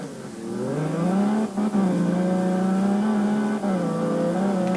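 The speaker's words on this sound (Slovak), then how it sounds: "Tu mám už BMW M4 a letíme." A BMW M4 with four-wheel drive revs hard and pulls through its gears, the loud engine note climbing steadily with a couple of brief dips at the shifts.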